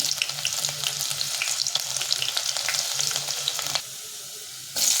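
Oil sizzles and crackles steadily as onion fries for tempering a brinjal curry, with stirring scrapes throughout; the sizzle briefly dips quieter near the end before surging back.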